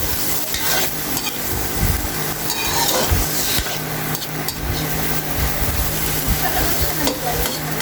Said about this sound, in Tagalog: Ayan, nagisa na ang hipon.